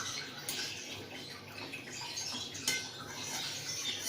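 Pizza dough ingredients being stirred together in a bowl, a soft, faint scraping and clinking of a utensil against the bowl that continues steadily for a few seconds, close by and without speech.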